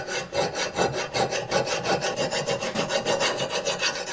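Worn metal file rasping rust off a steel axe head, steady back-and-forth strokes in a close, loud, even rhythm of roughly four per second, with no voices.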